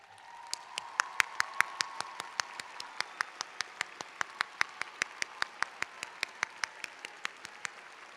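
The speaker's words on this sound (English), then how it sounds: "Would the family members of our graduating students please rise to receive our applause?" A commencement audience applauds graduates' family members: a sparse, evenly spaced clapping that sounds like a few sharp nearby claps over a faint background of wider applause.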